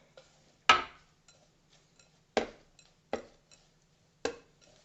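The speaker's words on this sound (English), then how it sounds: "I'm going to mix all this up really nice together" Utensil strikes against a bowl while granola bar ingredients are stirred for no-bake bars: several sharp, separate clinks and knocks with pauses between them, close and fairly quiet, under a faint steady hum.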